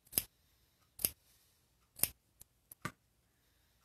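Scissors snip through quilt fabric several times, sharp crisp cuts spaced about a second apart, then a few quicker clicks, close up in a quiet room.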